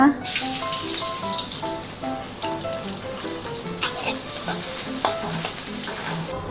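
Garlic frying in oil for a Thai stir-fried bok choy dish, a steady close sizzle with occasional stirring clinks and scrapes running throughout, no talking.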